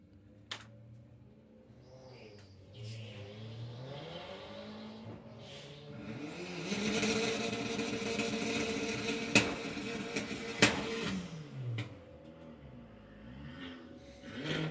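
Sportsman ET drag race cars at a Summer Nationals eliminations round pulling off the line, engines building to a loud roar mid-clip then fading, with distant track ambience before and after.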